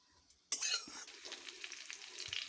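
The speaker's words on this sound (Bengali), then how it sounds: "দেখো আলুটা নাড়ছি" Potatoes are stirred in hot oil in a pan: after a quiet start, a sudden burst of sizzling scrape and spatter begins, then settles into a steady close frying hiss with occasional clinks and scrapes, no voices.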